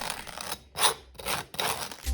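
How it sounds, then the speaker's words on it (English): A soft garlic confit clove is spread across a slice of toasted sourdough, giving close, dry scraping strokes in roughly four separate bursts with short pauses between them. "Then grab one of those cloves and spread it all over."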